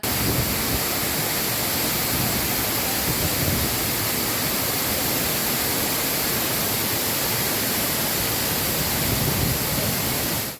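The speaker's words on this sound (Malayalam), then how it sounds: "മഴ കനക്കുമ്പോഴാണ് അച്ചങ്കല്ല് കടവത്ത മുണ്ടയിലെ കുന്നിൻമുകളിൽ നിന്നും അതിശക്തമായ വെള്ളം താഴോട്ട് ഒലിച്ചിറങ്ങുന്നത്" A monsoon waterfall at Achankal pours heavily down a rocky hillside, producing a loud, dense, unbroken roar of rushing water with no pauses.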